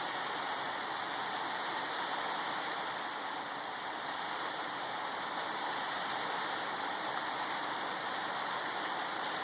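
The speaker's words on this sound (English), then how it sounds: "Ignore the rain, I'm trying to." Rain falls steadily outdoors in summer as a broad, even wash of hiss that holds unchanged throughout at a moderate level, with no voices.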